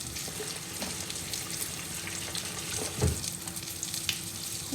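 Hush puppy batter balls frying in hot oil for a fried green tomatoes meal, a steady close bubbling sizzle with a few soft knocks, no voices.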